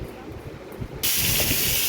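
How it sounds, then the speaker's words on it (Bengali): Bay leaf, dried red chilli and cumin hit hot oil in a kadai for biryani, setting off a sudden loud, steady hiss of sizzling halfway through after a quieter, murmuring start. "কড়ায় তেল দিয়ে দিয়েছি তেলের মধ্যে আমি তেজপাতা শুকনো লঙ্কা আর একটু জিরে ফোড়ন দিয়েছি"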